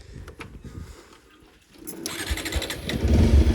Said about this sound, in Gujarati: બાઇક પણ સ્ટાર્ટ થઈ ગયું